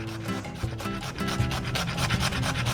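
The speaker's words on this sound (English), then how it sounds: "I fresh grate my nutmeg, always, always," Fresh whole nutmeg grated by hand for biscotti, heard as quick repeated rasping strokes, close and fairly loud, in a steady back-and-forth rhythm.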